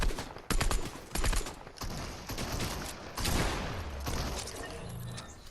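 Rapid bursts of gunfire in Fortnite, dense rattling volleys with a few heavier blasts, loud and close, running nearly continuously with short gaps.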